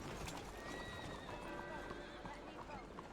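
Horse in the Red Dead Redemption 2 video game neighing with clip-clopping hooves, steady and close under continuous game ambience and background talk.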